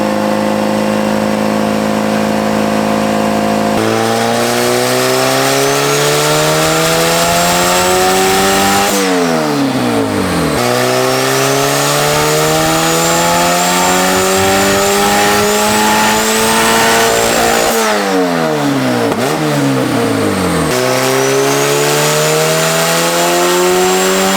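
A turbocharged Honda B18C engine in a car on a dyno, loud and close, revving up through repeated long pulls with rising pitch, sharp drops between gears and a turbo whistle above.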